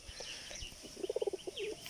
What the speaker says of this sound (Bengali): তার আগে আপনাদের আমার এখন পায়রা দেখাবো